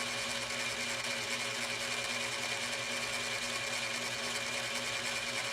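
A Cowells 90 ME lathe runs under power, its lead screw feeding the saddle toward the headstock, making a steady, even mechanical whir with a fine high hiss throughout and no voices.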